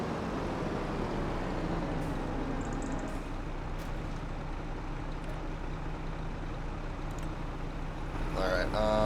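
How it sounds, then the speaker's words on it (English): A tractor engine runs in Farming Simulator 25, giving a steady low droning rumble in the background, with a few brief clicks and a burst of sharper noise near the end. "I just realized that tractor's been on the entire time."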